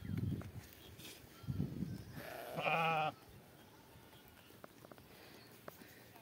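A sheep gives a single loud, quavering bleat nearby, preceded by a couple of softer bleats or calls from the small flock, with quiet rustling afterward.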